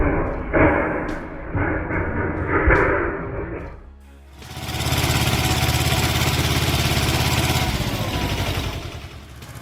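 Engine of a timber transport tractor working at a tree-cutting site, a loud steady mechanical drone that starts partway through after some sharp clattering knocks, then runs continuously to the end.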